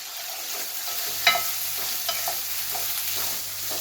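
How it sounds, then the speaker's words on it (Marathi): Finely chopped onion frying in hot oil with cumin seeds in a pan, a soft, steady sizzle with faint crackles and a few light stirring clicks, close up and without talk. "यामध्ये आपण हा जो बारीक चिरलेला कांदा आहे तो घालूया परतून घ्यायचा आहे"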